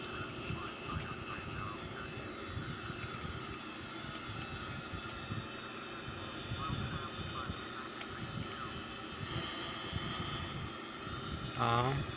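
An airliner on its takeoff roll down the runway, heard from the cockpit: a steady, loud jet engine roar with a high whine rides over constant rumble, swelling slightly toward the end.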